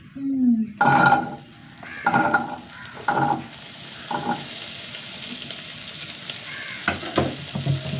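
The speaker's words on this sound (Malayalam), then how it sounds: "ചെറിയ വഴറ്റി വഴറ്റി വഴറ്റി വഴറ്റി വറുത്തെടുക്കുക" Small onions sautéing in coconut oil in a pan, a close sizzle with repeated stirring scrapes and clinks, with a voice speaking over parts of it.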